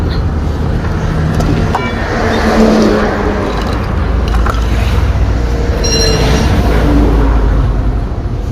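Steady roar of highway traffic with vehicles continuously passing close by, a loud broadband rumble that swells and fades as cars and trucks go past, with no talking.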